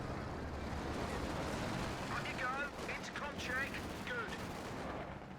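Rapid strafing fire in a battle game comes as a sustained, rumbling barrage of shots lasting several seconds, with a commentator's voice talking over the gunfire.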